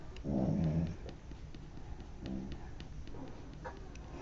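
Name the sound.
pet dog snoring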